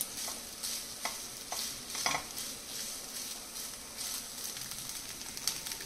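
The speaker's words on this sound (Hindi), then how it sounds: "उस टाइप से इसको थोड़ा सा हम भून लेंगे बड़ियों को।" Soya chunks roast in a pan and are stirred repeatedly, giving a constant dry sizzle with a regular rhythm of spatula scrapes, close and fairly quiet, with no talking.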